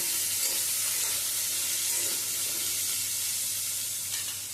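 Cut eggplant pieces sizzling in hot oil in a pan alongside partly fried potato and pointed gourd, with steady frying hiss and occasional stirring scrapes, close and continuous.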